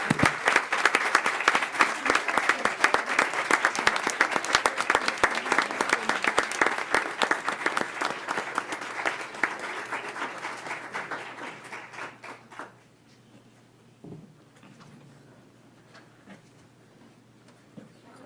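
Audience at a Duval County school board meeting applauds the 2023 Teacher of the Year, with loud sustained clapping from many hands for about twelve seconds, then tapering to scattered claps and near quiet.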